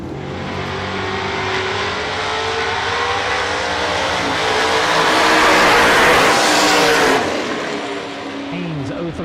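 Ricky Stewart's Camaro at a drag race runs loud and close, its engine roar swelling to a peak and then cutting off abruptly, with a track announcer talking over it.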